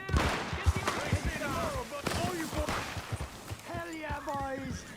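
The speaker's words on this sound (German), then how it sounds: "Wo wird da geschossen?" Gunfire in Red Dead Redemption 2 cracks out in several sharp shots through a busy game scene, with voices talking and shouting over much of it.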